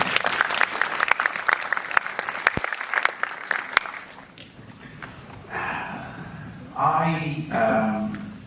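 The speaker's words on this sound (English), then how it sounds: "can you give yourself a round of applause because you're fabulous" Theater audience at the Windsor Theatre in Nedlands applauding, dense clapping for about four seconds that fades out, followed by a person talking alone.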